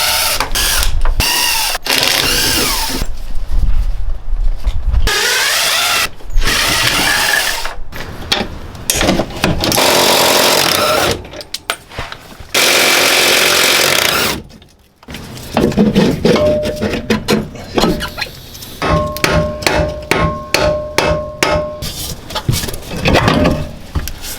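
Wrenches ratcheting and clanking on car wheel fasteners during wheel removal, loud choppy bursts of metallic cranking with pauses and a run of rapid clicks near the end.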